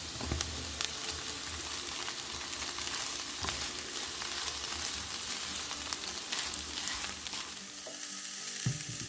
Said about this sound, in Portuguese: Eu vou refogar essa carne com 3 colheres de sopa de azeite.